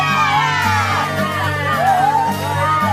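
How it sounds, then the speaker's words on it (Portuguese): Crowd cheering after police confirm the BTK strangler is in custody, voices whooping and shouting together in a loud, continuous roar with rising and falling yells. "Pessoas comemorando e aplaudindo."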